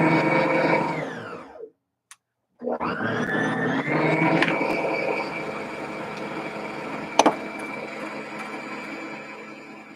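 Air is blown hard through a sewing machine to check for dust, making a loud, steady whooshing roar that cuts out briefly near the start and then resumes with a sharp knock partway through.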